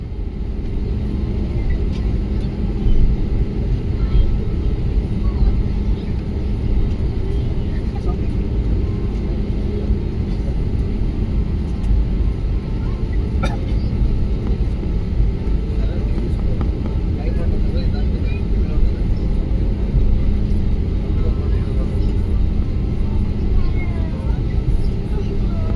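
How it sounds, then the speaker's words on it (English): An airliner taxis past Terminal 2 at Bengaluru Kempegowda International Airport, heard from inside as a steady, loud engine rumble and hum that holds without pause throughout. "So we taxied past the terminal."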